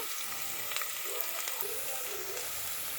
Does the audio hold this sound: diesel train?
no